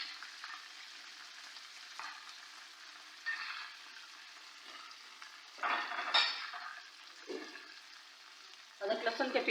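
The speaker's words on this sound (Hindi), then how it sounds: "अदरक लहसुन के पेस्ट को भी थोड़ा सा मैं ब्राउन कर लेती हूँ।" Ginger garlic paste browning in hot oil for a white chickpea gravy, giving a steady background sizzle with louder bursts of spattering and stirring, and no talking.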